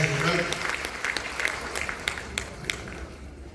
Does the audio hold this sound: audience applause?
yes